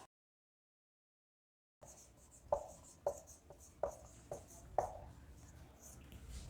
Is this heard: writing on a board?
yes